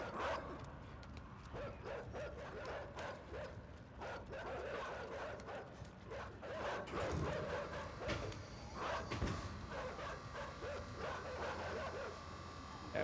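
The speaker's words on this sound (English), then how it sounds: "We are finally big enough to play with the dogs." Dogs in the video game INSIDE, faint yips and barks scattered through a busy, muffled game background, fairly distant and low in level throughout.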